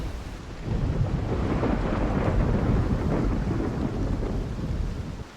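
Thunderstorm in Mount & Blade II: Bannerlord, a steady roar of rain and rolling thunder that swells in after a brief quiet start and holds loud and continuous to the end.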